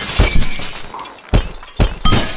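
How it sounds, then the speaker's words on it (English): Glass shattering in the video game Happy Wheels: three sharp, loud crashes, each followed by a bright tinkling spray of shards, up close with no talking. "For the end of the video, we're gonna do a glass break."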